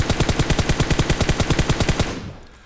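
Rapid automatic rifle fire in PUBG Mobile aimed at a practice target about 50 meters away, around twenty evenly spaced loud shots in a continuous burst that stops abruptly and leaves a short fading echo.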